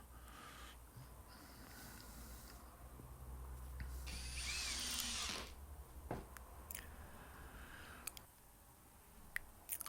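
A power tool drives screws into a wooden mock-up prototype, with a faint motor whir rising and cutting off in a short burst, then scattered clicks and handling knocks in a quiet room.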